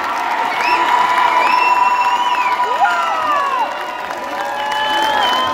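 A concert crowd for a singer and his musicians claps, cheers and whoops loudly, with shrill whistles and high shouts rising over a dense wash of applause that eases slightly near the end.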